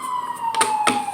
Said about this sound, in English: the sirens just went off